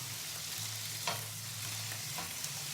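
A red gurnard fillet sizzles steadily in an oiled frying pan as it is turned, a close continuous fry with a few soft clinks and scrapes and a low hum underneath.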